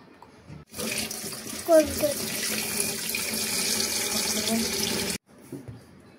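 A kitchen tap runs steadily into a sink for about four and a half seconds while cut eggplant is set to soak, a close, even rush with a brief clatter partway through, then cut off.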